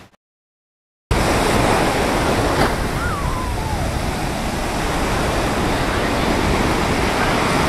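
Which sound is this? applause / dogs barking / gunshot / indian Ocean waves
indian Ocean waves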